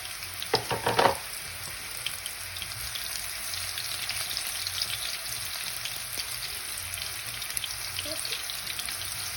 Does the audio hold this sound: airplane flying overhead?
no